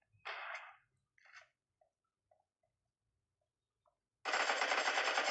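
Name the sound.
machine gun firing in a video game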